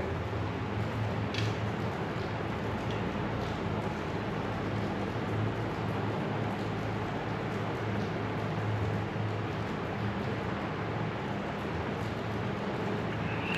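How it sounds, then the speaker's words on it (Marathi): Heavy rain pours steadily outdoors in Konkan, a dense unbroken hiss of falling water, loud and close, continuing without pause and with no voices over it. "इकडं बाहेर पाय ठेवलं जागा नाही एवढा पाऊस मरणाचा पडतोय"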